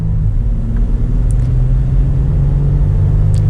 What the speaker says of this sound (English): Let's get a little acceleration here with the 4Runner.